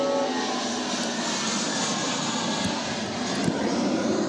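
A Jetstar jet airliner departs for Adelaide from Melbourne Airport, its engines making a loud, steady roar that holds unbroken throughout with no voices.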